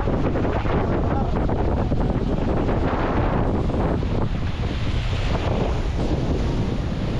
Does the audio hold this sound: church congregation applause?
no